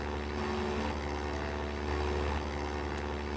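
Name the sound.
airplane taking off in Minecraft modern vehicle mod, video game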